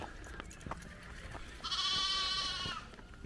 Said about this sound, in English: A lot of sheep and lambs about